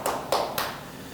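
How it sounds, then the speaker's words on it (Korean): A few hand claps at a Korean Bible class on the Book of Ruth, three sharp, separate claps fading quickly into quiet. "우리 박수 한번"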